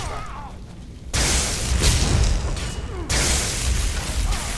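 A fire spell cast in Skyrim, heard as a sustained roaring whoosh of flames that bursts in suddenly, breaks off briefly, then resumes, with a faint voice beneath at the start.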